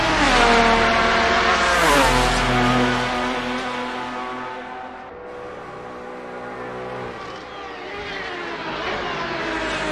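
A GT1 race car in RSS sim racing howls at full throttle, its engine note climbing steadily and staying loud and sustained through a fast right-hand kink, alone without talk.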